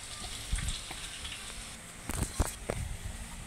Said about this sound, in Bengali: তেলটা গরম হয়ে গেছে, এখন পেঁয়াজ কুচি দিয়ে দিব।